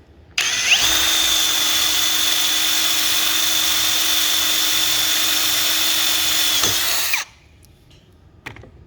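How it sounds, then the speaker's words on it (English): A power drill whines at a steady high pitch for about seven seconds, drilling holes in a hammer mill screen, close and loud, then cuts off, followed by faint clicks. "we're just going to have to keep on drilling holes"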